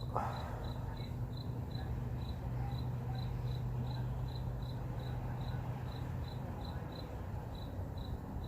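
Crickets chirping outdoors on a quiet evening, a faint regular pulsing trill repeating steadily over a low background hum, no talking.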